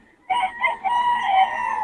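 A gamecock for sale, wet from the rain, crows once nearby, a loud drawn-out cock-a-doodle-doo that starts abruptly after a brief quiet moment and holds strong to the end.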